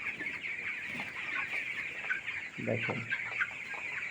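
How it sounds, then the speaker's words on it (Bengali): Broiler chickens cluck softly and steadily at close range, with a brief louder burst of clucking partway through and someone speaking one short word over them. "এই ব্রয়লার মুরগি এত কুইরে"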